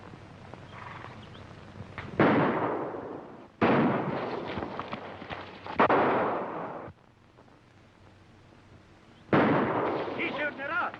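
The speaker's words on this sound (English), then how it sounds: "He's shooting at us." Gunshots ring out in a 1949 western film, several loud sharp reports spaced a few seconds apart, each with a long echoing tail over quiet outdoor background.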